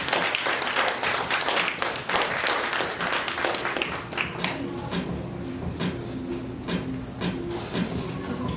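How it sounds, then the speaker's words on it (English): A crowd applauds at a live event, dense sustained clapping throughout with some cheering mixed in, fairly loud and steady. "can y'all give them a round of applause?"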